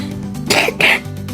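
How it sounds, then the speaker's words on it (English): A person playing a mobile game lets out two quick, harsh coughs close to the microphone, with soft game sounds continuing in the background. "I coughed like that one episode"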